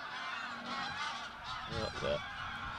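Geese honking as they fly overhead, a few distant calls near the end over faint outdoor background hiss, with no talking.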